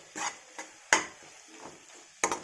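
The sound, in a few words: stirring prawns into masala gravy in a pan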